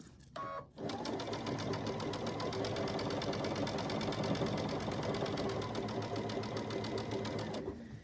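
Sewing machine stitching quilt scrap seams, a fast, even mechanical chatter running steadily for about seven seconds after a brief start, close and alone with no talk.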